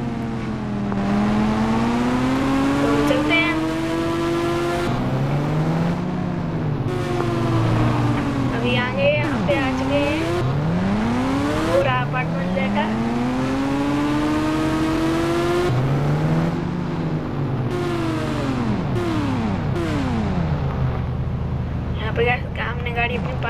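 Car engine in a video game, revving up and down in repeated sweeping waves as the vehicle accelerates and slows, loud and close with a steady whirring drone underneath and talk over it.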